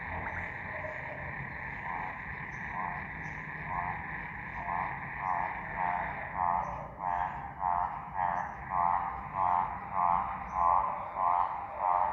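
Frogs croak in a steady rhythmic series that grows louder and more regular, repeated pulsing calls over a faint insect drone, outdoors during a yoga session.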